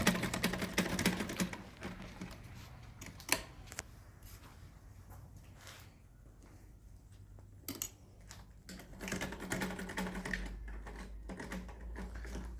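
A sewing machine stitches fabric back and forth in short, close runs of rapid rattling that stop and start, with quieter pauses between the runs.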